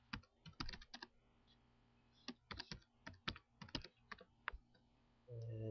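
Keys clack on a computer keyboard as a name is typed into karaoke conversion software, several quick bursts of close, crisp keystrokes separated by short pauses, with a low rumble at the very end.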